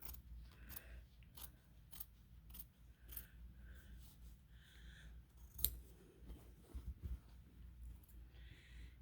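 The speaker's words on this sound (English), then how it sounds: "You can cut right on your line if you wish." Scissors cut through fabric for a dog bandana in a series of close, quiet snips with brief pauses between, plus a sharp metallic click and some light handling.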